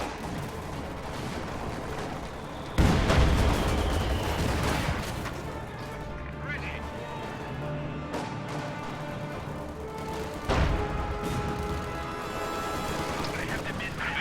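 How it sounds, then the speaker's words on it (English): An anti-tank grenade bursts against a Panzer IV tank in a WWII strategy video game, one heavy explosive crash followed later by a second blast, amid ongoing battle noise of gunfire and rumble, with someone commentating over it. "Conscripts catch this Panzer IV with an anti-tank grenade"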